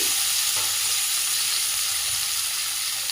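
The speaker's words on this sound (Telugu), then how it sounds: "ఇప్పుడు ఇదే ప్యాన్లో మనం ముందుగా పక్కన పెట్టుకుని టమాటా వేసుకోవాలి" Tomatoes frying in a pan for urad dal chutney, a loud, continuous close sizzle that stays even throughout, with no one talking.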